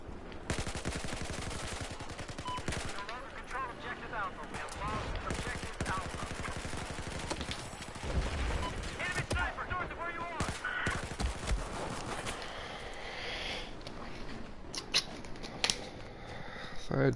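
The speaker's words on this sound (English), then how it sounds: "So I had 2 pretty good shots off there" Battlefield 4 gunfire from a sniper-hunting fight, with scattered shots and bursts cracking through busy battle noise, loud sharp transients near the end, and a voice talking throughout.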